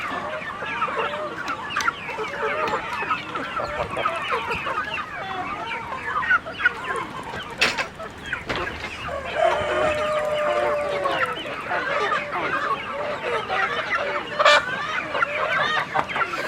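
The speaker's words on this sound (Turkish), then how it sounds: "Oraya da bir tavuk girmiş." Chickens cluck and chatter steadily inside a farm coop, with overlapping bird calls and a few sharper squawks over continuous barnyard noise; no one speaks.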